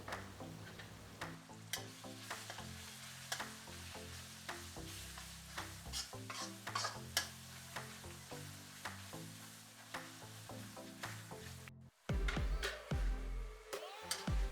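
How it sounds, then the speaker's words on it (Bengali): Turmeric and chili powder being stirred into onions in a pan, with soft repeated scraping strokes over a low, faint sizzle, accompanied by background music, and a louder clatter near the end. "হলুদ আর লঙ্কার গুঁড়ো ভালো করে পেঁয়াজের সঙ্গে মিক্স করে নেওয়া হলো"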